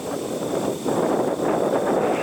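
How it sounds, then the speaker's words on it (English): Wind buffeting a microphone in rough, uneven gusts over a broad roaring hiss at Cleveland Hopkins International Airport, with a faint steady tone in the background. "It's windy."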